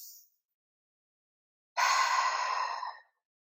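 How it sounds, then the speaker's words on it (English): A deep belly breath during a yoga session: one long, slow, airy exhale close to the microphone after a brief trailing breath and a pause of silence. "Taking a few rounds of really deep belly breaths here."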